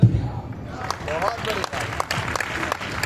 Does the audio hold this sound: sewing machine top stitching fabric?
no